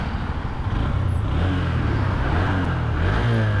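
A 2025 Honda SP125 motorcycle running after a self start, a close steady engine idle with a low rumbling tone and a slight rise in revs near the end.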